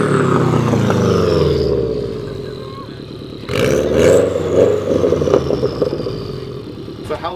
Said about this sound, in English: Just listen to the symphony that is that turbo.